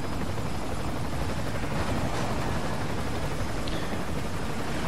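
A helicopter in the video game Call of Duty: Ghosts gives off a dense, steady rotor roar and whooshing rumble that fills the whole stretch at constant loudness, with no talk over it.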